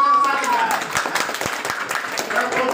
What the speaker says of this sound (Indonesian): Tepuk salut dulu.